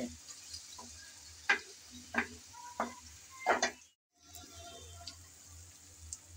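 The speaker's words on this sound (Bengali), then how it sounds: "কষাতে কষাতেই রেডি হয়ে যাবে আজকের মজাদার আচারি বেগুন।" Achari begun, pickled-spice eggplant, being stir-fried in a pan: a spoon scrapes and knocks in a handful of sharp, separate strokes over a steady low sizzle, with a brief silent gap near the end.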